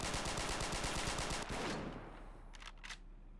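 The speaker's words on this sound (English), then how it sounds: "in moments like this, it just makes for a cool firefight" Rapid bursts of gunfire in a firefight in Men of War Assault Squad 2, a dense rattling machine-gun stream that cuts off and leaves a few scattered distant shots.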